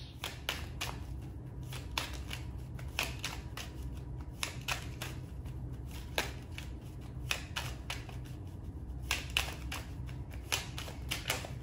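Tarot cards shuffled by hand for a reading, a steady run of crisp riffling flicks and soft slaps repeating close by over a low, constant room hum, with no talking.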